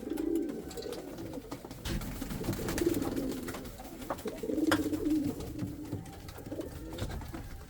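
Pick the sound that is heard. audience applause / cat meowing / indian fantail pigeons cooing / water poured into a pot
indian fantail pigeons cooing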